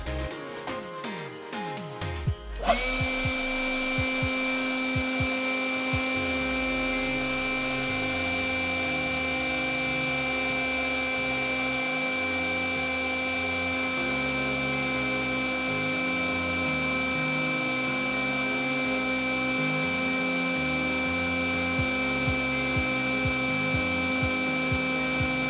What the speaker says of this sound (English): I let the blower run until it stopped from a depleted battery.